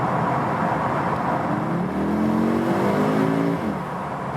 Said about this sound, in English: it's always a good good chance to turn down the window and then accelerate some more